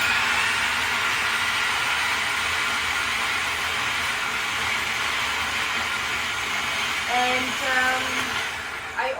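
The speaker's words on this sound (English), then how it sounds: "that's a good time to show a little bit how to use a food processor" A food processor runs continuously, blending a raw vegan pea spread with a steady, dense whirring hum; near the end a brief tonal sound briefly rises over the motor noise.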